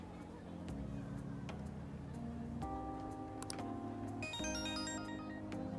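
A phone rings in Persona 5 Royal with a short, bright electronic melody of repeated tones that grows busier toward the end, over steady game music and background hum.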